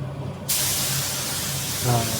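A paint spray gun releases a steady, loud hiss of atomized paint that starts abruptly and continues evenly, with a faint voice underneath.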